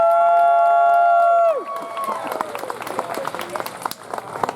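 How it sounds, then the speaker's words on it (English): A Renaissance faire crowd breaks into applause and some cheering after a held sung note ends, with lively clapping and scattered shouts continuing from a sizable outdoor audience. "that applause was weak"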